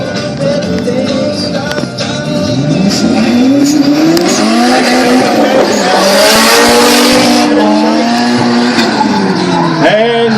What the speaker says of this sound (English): And I think it's Anthony Stokes that's just on the spin there.